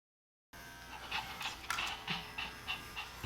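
A Shih Tzu pants rapidly and close by, in quick rhythmic breaths, while being groomed with a Wahl Motion lithium-ion clipper fitted with a stainless steel snap-on comb; no talking.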